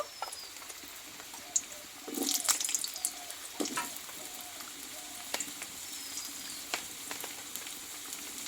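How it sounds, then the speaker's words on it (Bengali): Cut potatoes fry in mustard oil with a crackling sizzle that swells after a quiet start, broken by scattered sharp spatula knocks and spits, and a faint bird call in the background. "এইবার এই তেলেই আমি আর একটু দিয়ে দেবো সর্ষের তেল দিয়ে এখানে কেটে রাখা আলুটা কষে নেব"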